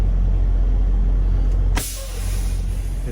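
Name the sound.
semi truck air brakes set at dock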